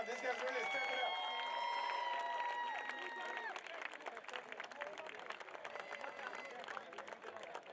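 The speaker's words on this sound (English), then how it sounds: "big round of applause, guys" An audience at a Division A sports final at Wright Field bursts into dense, close applause for the team, with voices and cheering mixed in early before steady clapping fills the rest.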